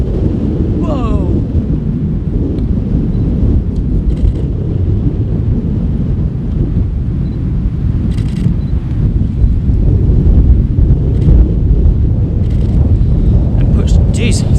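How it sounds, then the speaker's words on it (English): Strong wind buffets the microphone on an exposed mountainside, a heavy, continuous roaring rumble that stays loud throughout, with a brief exclamation near the start. "Jeez, it's so windy."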